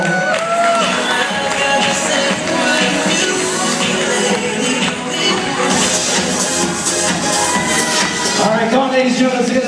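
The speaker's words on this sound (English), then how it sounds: "a nice round of applause for the little flower girls" Wedding guests clap and cheer for the little flower girls as the entourage enters, a steady crowd din with whoops over loud music, continuous and close throughout.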